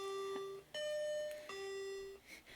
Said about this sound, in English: I keep forgetting about all the alarms I have set.